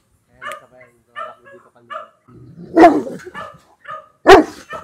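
Several pet dogs bark in sharp, loud bursts, two strong barks standing out, with a person talking in between and around them.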